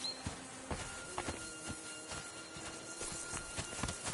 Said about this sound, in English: The horses are waiting, so let's go.